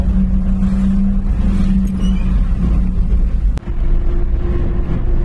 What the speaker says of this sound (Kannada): ಎದುರುಗಡೆ ಕಾರು ಬರ್ತಾವ